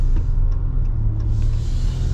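From inside a Ram pickup truck under moderate acceleration, the engine gives a steady, close, low rumble for about two seconds, with no voices.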